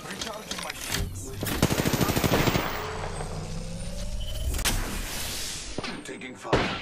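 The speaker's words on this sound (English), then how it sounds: "I am taking fire." Rapid automatic gunfire in the Apex Legends video game crackles in dense bursts, loud and close, with a burst of fast shots in the middle and scattered shots around it over a continuous mechanical rumble.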